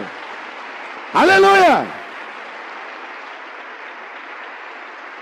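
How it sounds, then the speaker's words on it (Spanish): Church congregation applause holds as a steady wash throughout, briefly topped by a loud shouted exclamation from one voice. "Un aplauso pues para el Señor."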